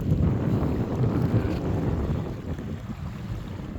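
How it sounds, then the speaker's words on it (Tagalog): Strong wind buffets the microphone in a steady low roar while fishing, with faint water movement underneath and no voices. "hanggang ngayon malakas pa rin ang hangin ha?"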